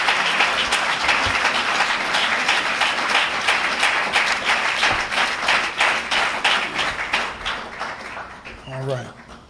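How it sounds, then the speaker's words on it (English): Audience applause fills a Nation of Islam gathering at Mosque #7, a dense, steady patter of many hands clapping that thins and fades toward the end as a voice begins. "Let's give her a well-deserved round of applause"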